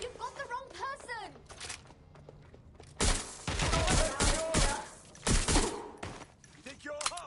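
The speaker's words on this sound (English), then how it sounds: "Gunfire!" Bursts of rapid gunfire from the video game Watch Dogs Legion crackle in several loud volleys, mixed with shouting voices and game chatter between the shots.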